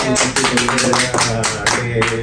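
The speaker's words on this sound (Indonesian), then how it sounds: "Tepuk tangan untuk kita semua ya." Talk show studio audience clapping in loud bursts, rhythmic pulses of hands close by, with a musical tone sustained underneath.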